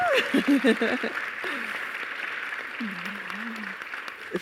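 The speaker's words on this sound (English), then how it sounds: "Please give our panelists a round of applause" Applause from an audience thanking the panelists and moderator at the close of a diversity and inclusion discussion, a broad steady wash of clapping with voices talking over it near the start and again toward the end.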